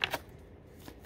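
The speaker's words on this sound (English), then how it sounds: "Can I finish the shuffle?" Tarot cards riffled briefly during a reading, two quick crisp flutters at the start followed by faint handling noise, close and quiet.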